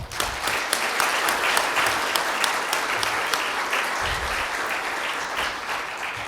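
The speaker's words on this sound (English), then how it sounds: "Can you give a big round of applause?" An audience at an HR conclave session applauds in a full, continuous round, with a few sharper individual claps standing out and a faint voice underneath.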